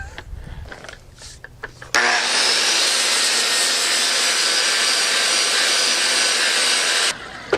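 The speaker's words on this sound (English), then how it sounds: "It's like halfway between a sanding disc and a grinding disc." Disc grinding starts abruptly after a few faint clicks and handling noises, a loud continuous abrasive whine holding steady for about five seconds, then cutting off.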